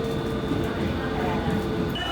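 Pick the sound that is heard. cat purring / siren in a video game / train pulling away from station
train pulling away from station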